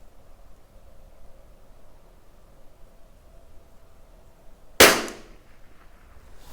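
A Tikka T1x .22 LR rifle firing a Winchester Subsonic round outdoors, a single sharp crack near the end after quiet background, followed by a brief fading echo.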